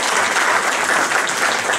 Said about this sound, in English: give a round of applause for our volunteer